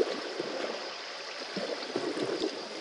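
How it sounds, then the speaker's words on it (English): Water rushing down a water slide in Minecraft, a soft continuous trickling and gurgling flow at moderate volume, heard alone. "Water slide."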